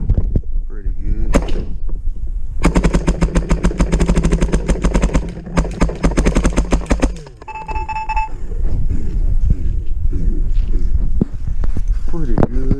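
Rapid bursts of shots from a DLX Luxe X paintball marker, a dense rattling stream of firing lasting several seconds, then stopping as the hopper runs dry, leaving handling noise and a voice.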